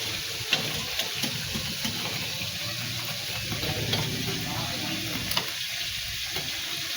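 Drained boiled cauliflower tipped into a pan of boiling, salted gravy for cauliflower curry, bubbling and sizzling steadily at close range with faint stirring clinks and brief louder knocks, no voice.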